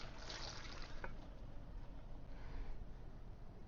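Water is poured into a cooking pan of halved, pitted plums, a steady broad rushing splash that carries through the whole stretch at moderate level with no talk.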